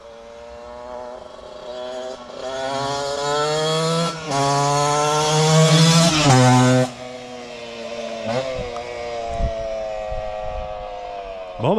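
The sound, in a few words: Yamaha DTX 125 motorcycle engine running with Ignitech ignition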